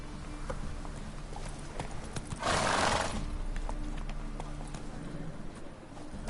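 Roach, a horse in a video game, makes hoofbeat clip-clops with a loud burst partway through that could be a neigh, over a steady ambient background with no clear talking.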